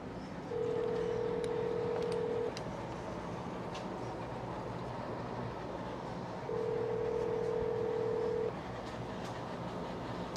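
Telephone call ringing out on the line: two long, steady ringback tones about two seconds each, separated by a pause, over a low rumbling background.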